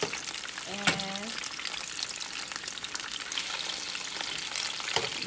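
Oxtails frying and browning in a pan, giving a steady loud sizzle throughout, with a brief clatter as pieces are turned and a voice speaking over it.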